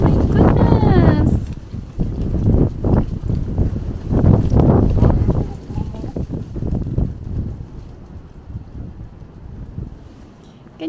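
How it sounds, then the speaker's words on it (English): Strong wind on an island buffets the microphone in loud, gusty roars that ease off toward the end, with people talking over it. "The wind is so strong."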